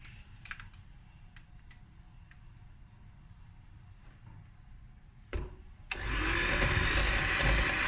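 Soft butter, 200 grams for a walnut and date cake batter, beaten loud and steady with an electric mixer that starts abruptly after a short clatter, following a quiet stretch with faint ticking and a low hum.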